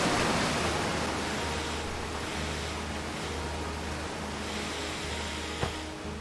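A waterfall in the video game Outer Wilds, a continuous broadband rushing roar that holds steady throughout, with one faint click near the end.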